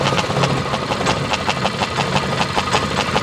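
A 6.5 hp mud motor on a boat runs steadily through a custom muffler, giving a close, loud, continuous engine drone with a rapid regular knocking pulse throughout.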